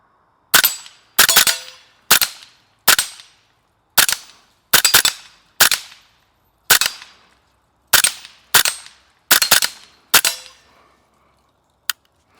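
Rifle shots fired at dusk from a gun fitted with a RovyVon GL-4 Pro laser sight, eleven sharp loud cracks at irregular intervals of about a second, each with a short ringing decay, then a faint distant pop near the end.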